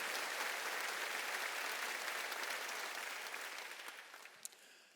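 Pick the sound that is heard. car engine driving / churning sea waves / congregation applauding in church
congregation applauding in church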